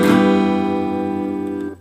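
Rhythm guitar chord rings out in GarageBand playback, one strummed chord sustaining steadily for under two seconds, alone with no talk.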